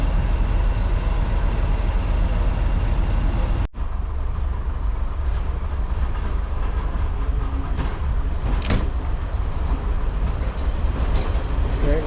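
Locomotive 7714 pulls away from Highley station on the Severn Valley Railway, a loud, steady close rumble of engine and wheels that holds continuously throughout with no talking.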